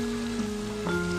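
Steady rain falls in a children's story about a snail caught without shelter, a continuous soft hiss with sustained tones layered over it.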